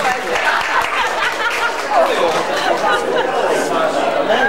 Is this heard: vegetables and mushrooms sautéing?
no